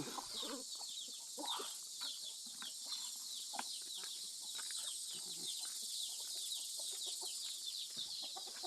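Several chickens cluck and chatter in short, irregular bursts over a steady high background hiss, moderately close.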